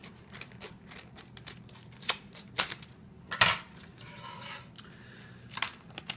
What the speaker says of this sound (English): So I'm just going to grab a pair of scissors, cut them open for you guys.